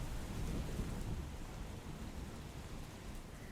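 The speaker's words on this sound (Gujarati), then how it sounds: "તાપીમાં પણ ભારે વરસાદ વરસી રહ્યો છે" Heavy monsoon rain falls in Tapi, Gujarat, as a dense, steady hiss of drops pattering on surfaces, with a deep low rumble beneath and no voices.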